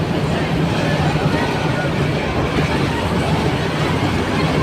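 A train runs along the railway beside the Karwan Bazar fish market, a loud, steady rumbling roar that fills the whole stretch, with crowd babble mixed underneath.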